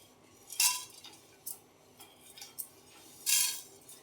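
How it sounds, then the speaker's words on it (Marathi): Whole spices dry-roasted in a pan without oil, with a utensil stirring them to make soft, sparse scrapes and light metallic taps, close and quiet, including a few louder stirs, with no voices. "तर आता जो अख्खा मसाला आपण काढलेला आहे तो भाजायचा आहे आपल्याला"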